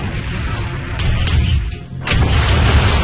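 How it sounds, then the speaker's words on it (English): An enemy mech exploding in the MechWarrior 2: Mercenaries game, a loud sustained boom rumbling with a low roar, then a second burst swelling near the end. "Enemy mech destroyed."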